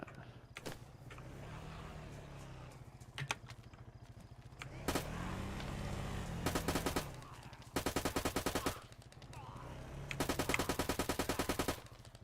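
Automatic gunfire in the survival game DayZ, several long rapid bursts of evenly spaced shots with single cracks in between, loud and close over an engine-like hum.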